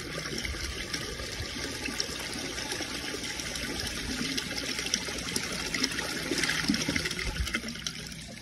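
A 2002 Sanitarios Maracay toilet flushing, steady rushing and gurgling water that swells toward a weak siphon near the end, heard alone at moderate distance.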